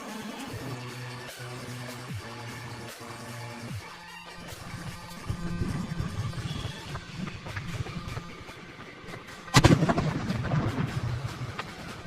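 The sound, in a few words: firecracker explosion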